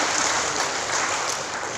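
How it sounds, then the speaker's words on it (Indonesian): An audience at a coffee sales event claps together in a dense, even burst of applause that holds steady for under two seconds. "Tepuk tangan dulu semua untuk kopinya kita."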